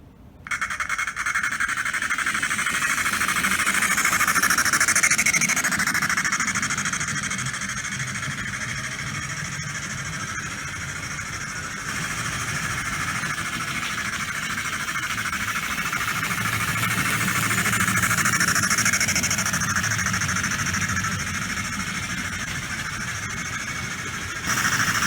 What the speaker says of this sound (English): the motor in this thing is god-awful noisy. However, the chugging mechanism is now working.